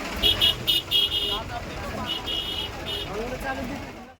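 Busy traffic on the Dive Ghat road during the Palkhi pilgrimage, engines rumbling and several short car horn toots near the start, people talking faintly underneath.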